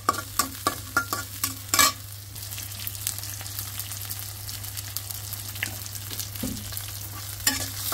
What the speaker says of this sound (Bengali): সবজিটা একটু ভাজির মতো করে করবো।